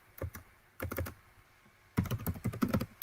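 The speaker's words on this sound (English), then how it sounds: "Typing it in Swedish." Quiet, close keyboard typing in short bursts of clicking keystrokes, with a brief pause before a longer, busier run.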